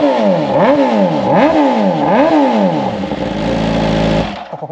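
A Ducati Panigale V4 S with a full titanium exhaust, Akrapovic headers and a short GP-style muffler revs hard three times in quick, rising-and-falling blips, then holds a loud, steady high idle before cutting off abruptly, close and unaccompanied.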